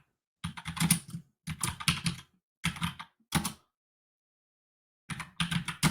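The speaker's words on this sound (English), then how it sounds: "We're going to go ahead right here and type this down." Computer keyboard typing in several quick bursts separated by short pauses, with clear, close key clatter and no talking.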